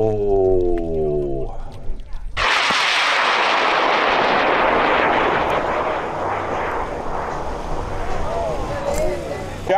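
A high power rocket with a Loki motor and dual-deploy recovery ignites after a countdown, a sudden loud roaring blast that rises abruptly and keeps rumbling and crackling nearby, fading slowly, following a brief voice at the start.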